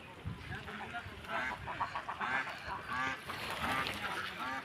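Peking ducks on a large duck farm in Noakhali, Bangladesh, a dense crowd of overlapping quacks and honks, continuous and close, with a voice faintly mixed in.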